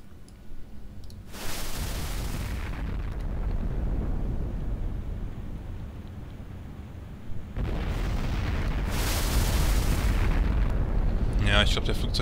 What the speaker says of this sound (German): jetzt muss ich den Hafen zerbomben